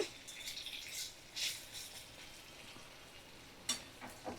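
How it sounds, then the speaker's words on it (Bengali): Chickpea dal fritters are turned over in hot oil, giving a soft, low sizzle broken by short bursts of spatter and scraping as they are flipped. "প্রত্যেকটা বড়ি এইভাবে উল্টে পাল্টে ভাজা করে নেব।"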